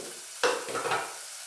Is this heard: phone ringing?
no